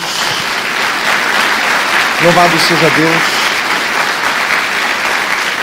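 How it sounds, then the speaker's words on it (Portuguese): A church congregation claps for Jesus in a steady, loud, continuous burst while a voice briefly speaks over the applause midway. "Dê uma salva de palmas a Jesus."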